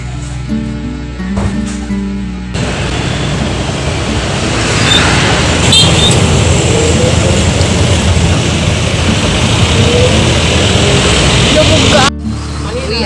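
Constant loud rumble of road traffic with engine drone and passing vehicles, a steady roar that swells in the middle before dropping off abruptly.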